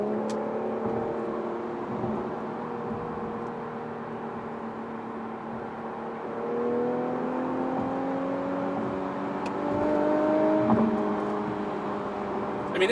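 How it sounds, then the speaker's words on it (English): An Infiniti Q50 Red Sport cruising on the road at highway speed, its engine droning steadily inside the cabin with gentle rises in pitch and a constant rush of road and tyre noise. "this car cruises at 80 miles an hour"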